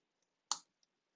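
A single close computer mouse click while copying and pasting text, crisp and short, followed by a fainter tick, in an otherwise quiet room.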